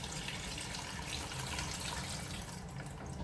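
About 1.5 liters of water running into a stock pot of hot and sour soup, a constant close splashing pour with no voices.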